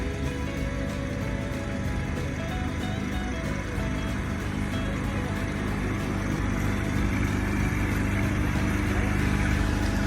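Steady engine drone from a green ride-on tractor racing outdoors, a continuous low rumble holding level throughout with slight rising intensity near the end, no talk over it.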